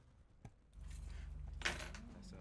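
Keys jangle briefly near a motorbike, a light metallic rattle set against a steady idling engine hum, with a louder clink partway through.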